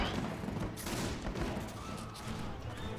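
A musket volley from an entire division fires at once in the strategy game Between Empires, playing as France, a dense crackling burst of gunfire that stays steady and loud throughout.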